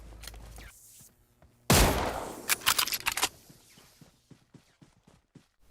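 Gunfire in the mobile battle royale game PUBG Mobile: a loud burst of shots erupts after a quiet stretch, followed by a rapid string of sharp cracks and then softer scattered taps and footsteps.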